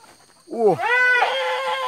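A Garut goat bleats loudly and close, one long quavering cry that dips and rises in pitch before settling into a sustained wavering tone.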